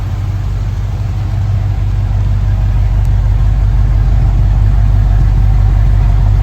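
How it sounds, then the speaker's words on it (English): A 1964 Ford Galaxie 500XL convertible with dual exhaust idles close by, a loud, steady low rumble with an even throbbing pulse and no revving, heard on its own. "It's got a nice note dual exhaust here."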